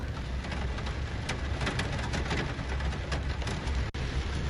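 Heavy rain pouring down steadily in Cherthala, Kerala, a dense, continuous hiss with no voices.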